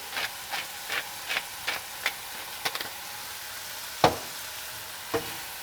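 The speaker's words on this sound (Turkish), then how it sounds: "karıştırarak sotelemeye devam edeceğim" Quesadilla filling with spices sautéing in a pan, a soft background sizzle broken by a series of sharp spoon taps and scrapes as it is stirred, close and unaccompanied by talk.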